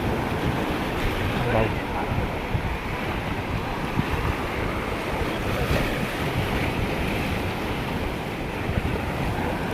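Sea waves crash near the shore in a steady, loud roar of surf, with wind buffeting the microphone throughout and no clear gaps between breakers.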